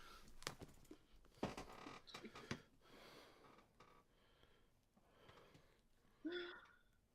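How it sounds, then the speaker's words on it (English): Close, quiet breathing into a microphone during a call, with wheezy, snorting inhales and exhales coming in irregular bursts and a louder breath near the end, no clear speech. "I'm breathing that loud?"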